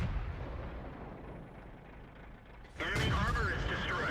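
A Comet tank's main gun fires once in World of Tanks, a sudden loud boom with a ringing mechanical tail that cuts in near the end, after a stretch of low engine rumble.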